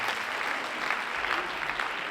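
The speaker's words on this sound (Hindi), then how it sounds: "एक बार जोरदार तालियां म्यूजिशियंस के लिए प्लीज" An audience applauds musicians at a live event, a dense, steady wash of clapping from many hands lasting the whole moment, with no voices on top.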